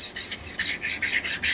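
A Ganzo FH21 knife with a D2 steel blade is drawn freehand across a sharpening stone, giving a loud, close, rhythmic rasping of repeated strokes in quick succession with no talking.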